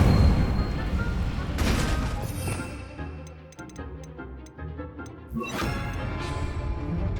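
An Incendio fire spell cast in Hogwarts Legacy bursts with a crackling whoosh, followed by quieter ticking spell effects and then a second flaring burst, loud and close.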